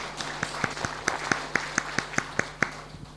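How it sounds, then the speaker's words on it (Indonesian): Scattered claps from a small lecture audience, about a dozen distinct hand claps in a loose, uneven rhythm, fairly faint over a quiet room hum. "Mohon tepuk tangan untuk UNU"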